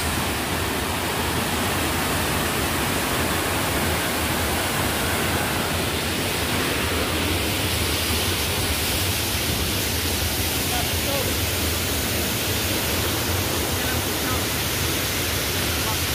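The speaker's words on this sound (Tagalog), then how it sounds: "Dito lang yan matatagpuan sa Barangay Situbo, Tampilisan, Zamboanga del Norte. Yan, Situbo Falls." Situbo Falls in Barangay Situbo, Tampilisan, Zamboanga del Norte, a steady loud rush of falling water that continues unbroken throughout, close and enveloping, with no clear talk.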